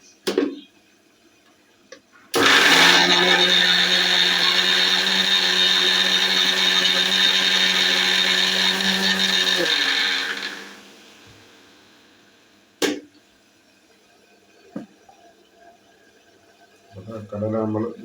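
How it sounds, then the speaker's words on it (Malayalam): A kitchen mixer grinder crushing chickpeas roars into a loud, steady high whine for about eight seconds, then winds down and stops, followed by a few scattered clicks and knocks in a quiet room. "കടല എടുത്തിട്ട് മിക്സിയിൽ ഓൺ ചെയ്ത് നമുക്ക് അതൊന്ന് റെഡിയാക്കി എടുക്കണം"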